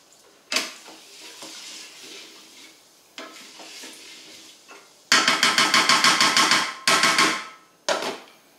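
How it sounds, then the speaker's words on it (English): A spoon scrapes and knocks around a pot of rice, first in scattered single strokes, then in a fast run of loud rhythmic clattering strokes, with a few final knocks, close up with no talking. "I'm going to give that a little stir"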